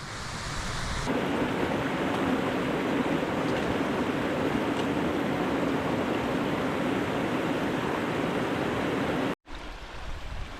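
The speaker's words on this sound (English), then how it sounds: "Wee waterfall just appeared at the fog." Continuous rushing water from a small fog-shrouded waterfall in the Scottish Highlands above Loch Lyon, a steady broadband splash and roar, constant throughout before a brief cut near the end.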